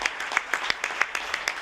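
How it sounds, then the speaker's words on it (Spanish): Audience at an international conference on religious pluralism applauds, a moderate, fairly sparse patter of clapping with distinct individual claps sounding close by. "Mercedes Murillo y María del Carmen Nieto, a las que pido un aplauso"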